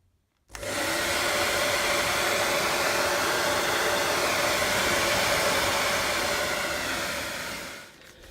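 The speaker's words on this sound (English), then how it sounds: "here I have just a regular hairdryer" A regular hairdryer switches on abruptly and blows with a loud, steady whooshing roar for about seven seconds, then cuts off and winds down.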